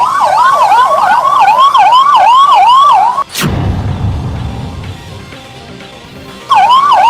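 A loud wailing ambulance siren cycles up and down close by, cuts off abruptly with a thump and rumble, then resumes near the end.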